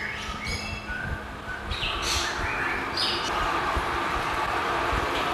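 Caged magpie robins calling inside a bird breeding room, with bright whistled phrases and chirps repeating over a dense, steady background hum of the room.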